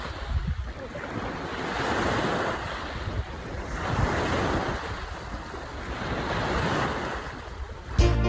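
Sea waves roll onto a beach in Batangas, a steady loud surf wash rising and falling in slow surges, mixed with wind buffeting the microphone and a brief bump near the end.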